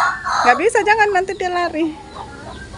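Free-range village hens cluck and squawk in agitated bursts as someone grabs at them, with Indonesian voices talking close by over the flapping birds.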